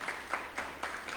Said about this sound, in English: How about a round of applause to mark this long journey of friendship